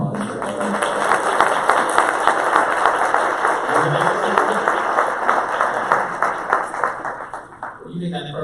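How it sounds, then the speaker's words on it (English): A crowd applauds steadily for several seconds, the clapping dense and even, with a voice speaking underneath. "offering her a round of applause for that"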